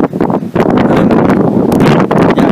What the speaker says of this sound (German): Es ist so krass windig, Leute.